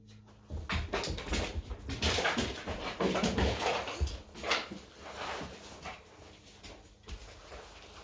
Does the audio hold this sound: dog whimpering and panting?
yes